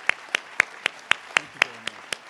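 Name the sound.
audience applause for the speakers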